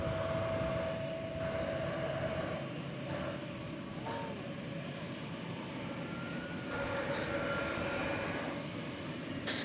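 An airliner on the DFW runway at night, bound for Doha, gives a steady distant engine rumble with a faint whining tone, fairly quiet and continuous.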